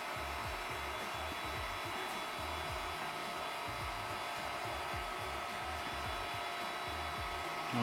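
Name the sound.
3D printer running auto-leveling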